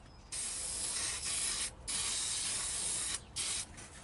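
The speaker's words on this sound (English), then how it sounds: "I'm going to spray some of this. It's hard to get a picture of it without a reflection. This battery protector and sealer." Aerosol battery protector and sealer sprayed onto a truck battery in several short bursts of close, bright hissing, with brief pauses between them.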